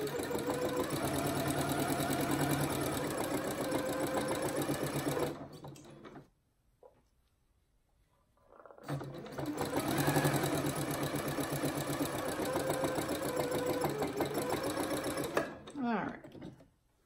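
A sewing machine runs a straight stitch on fabric for a drawstring bag, whirring in long steady bursts with a brief pause midway and a short stop near the end.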